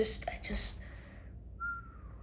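A breathy, wavering attempt at whistling, starting airy and thin, then a faint steady tone toward the end, with a voice murmuring around it.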